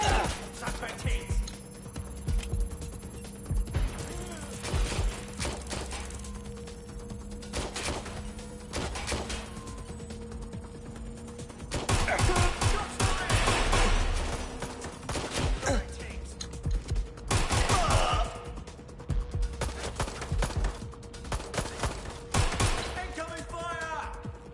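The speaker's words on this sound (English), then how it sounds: "They're shooting at us!" Gunfire in a video game, with dense bursts of rapid shots and impacts that build into heavier volleys partway through, layered with game noise and frequent talking.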